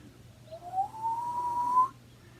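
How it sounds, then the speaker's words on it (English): A single whistle is blown for a magic trick, giving one sustained tone that slides slightly upward and lasts about a second and a half. It is clear against a faint low hum, with no talking. "Gotta have the whistle."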